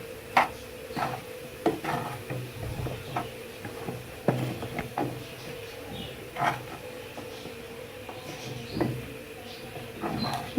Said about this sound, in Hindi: चम्मच साथ साथ हिलाते रहें ताकि स्टफिंग नीचे ना लगे